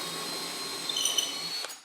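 A reversible power drill bores a hole for a cabinet door handle, a steady whirring hum lasting under two seconds that rises slightly mid-cut and then winds down.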